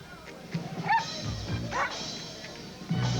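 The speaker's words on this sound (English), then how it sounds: "Dogs." Dogs bark and yip in a Bud Light beer commercial, a few short bursts over a noisy background with some voices present.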